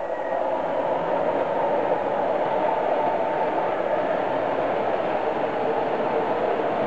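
Model railway subway train rolling past on a layout, a steady, continuous rumble of wheels and cars with a faint rail whine, holding at an even loudness throughout without talk.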